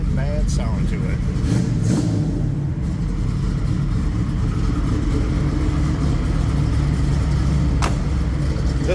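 A 1971 Chevrolet Nova's engine rumbling, a heavy, constant low throb that fills the whole stretch, close and loud.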